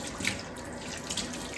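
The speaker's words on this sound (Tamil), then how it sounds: "இதை சுட தண்ணி ஊற்றி" Tap water runs steadily into a kitchen sink over a frozen chicken being thawed, a continuous close splashing stream with no talk.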